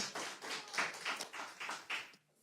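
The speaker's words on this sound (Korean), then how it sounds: "박수 한번 주세요" An audience at a Korean political speech claps together in rhythmic bursts, about three to four per second, steady and moderately loud for a couple of seconds before it stops abruptly.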